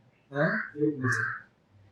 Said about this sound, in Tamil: காக்கா வந்து கேக்குது